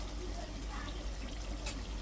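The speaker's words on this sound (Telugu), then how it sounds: "చూడండి, నేను 1 గ్లాస్ వాటర్ వేస్తున్నాను." A glass of water pours steadily into a pan of garlic chicken with a soft, continuous trickling hiss over a low hum, quiet and close.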